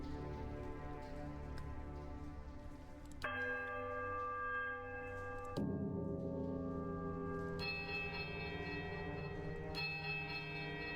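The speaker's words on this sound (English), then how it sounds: "a sudden dissonant toll sounds from the bells, so loud and piercing that you are compelled to cover your ears" A bell tolls loudly in the video game Pillars of Eternity, with sustained resonant ringing tones whose pitch shifts abruptly several times over about eleven seconds, and no voices.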